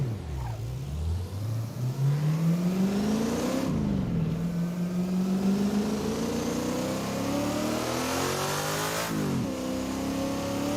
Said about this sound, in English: Quick sound check.